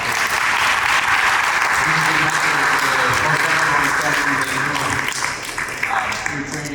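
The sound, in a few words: audience applause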